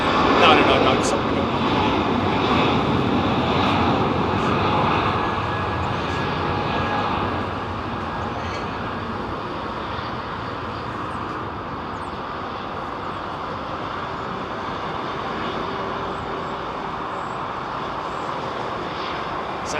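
Jet airliner taking off at London Heathrow Airport, heard close-up as a loud, sustained engine roar that swells early and then holds steady as a broad rumble, with people talking intermittently underneath.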